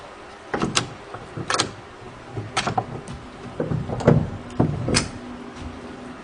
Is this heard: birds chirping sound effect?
no